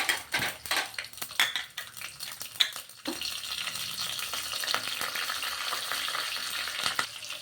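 Mustard seeds, cumin and green chillies fry in hot oil for tempering, first with sharp crackling pops and spoon clatter, then settling into a steady close sizzle.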